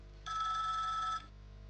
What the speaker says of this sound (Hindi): एक मिनट, मेरा फोन आ गया।